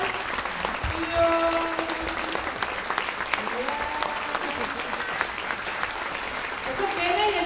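Audience applause from people standing at a concert, a dense steady wash of clapping lasting throughout, with a few voices and brief tones mixed underneath.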